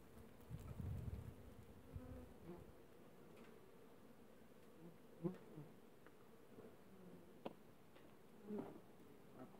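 A steady, close hum of many bees buzzing around a hive as a colony is moved into a smaller hive box, with occasional louder passes and faint knocks, no talking.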